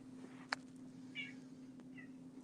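A house cat meows indoors in a few short, separate calls, fairly quiet against a steady background hum.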